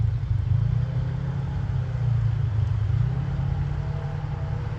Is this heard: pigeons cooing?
no